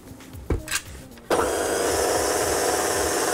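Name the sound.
stand mixer kneading brioche dough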